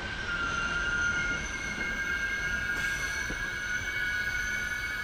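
Belgrade–Bar sleeper train pulling into Bar station, with a steady loud rolling rumble and a sustained high metallic wheel squeal running throughout, no voices.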